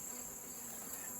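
Bees gather and buzz outside the entrance of a backyard hive on a hot day, a steady, dense hum with a high whine, brief and uninterrupted.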